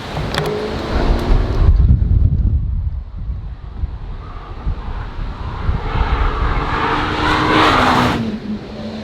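A McLaren Senna and a Ferrari passing on a private racetrack, engine roar rising and fading as the cars sweep by in the distance, heavily buffeted by wind noise.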